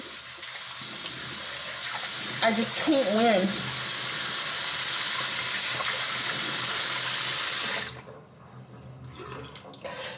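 A kitchen tap runs hot water into a sink in a steady hissing rush for about eight seconds, then cuts off abruptly; a person speaks briefly over the flow and again after it stops.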